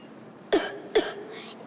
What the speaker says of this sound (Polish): my nie wiemy, skąd się ten kaszel wziął